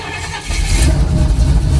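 A 1979 Jeep CJ-7 engine catches after a brief crank and settles into a loud, close, rumbling run.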